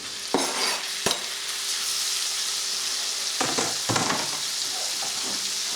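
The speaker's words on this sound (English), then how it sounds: "I'm turning it down to a lower heat now, and I'm just going to add the squirrel meat in." Squirrel meat frying in hot oil and butter over a lowered flame, a continuous loud close sizzle with a few sharp clatters and stirring scrapes of a utensil, no talking.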